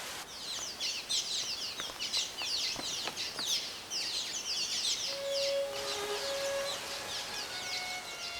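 Young birds calling from a nest on rock in Brazil's Atlantic Forest, a busy cluster of high thin chirps and peeps in rapid overlapping bursts, with a few faint steady whistles later, moderately close.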